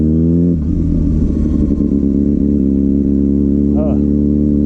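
A Kawasaki Ninja ZX-6R motorcycle engine runs loud and close throughout, idling roughly before revving up and holding a strong, steady drone with a brief rise near the end.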